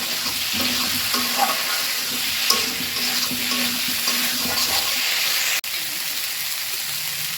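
Potatoes and spices for a rohu fish curry fry in a pan with a splash of water, giving a steady close sizzle with soft stirring scrapes and a brief clatter near the end; no talking.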